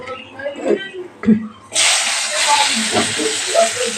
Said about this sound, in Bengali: এবার আমি এই বেগুনগুলো ভেজে নেব।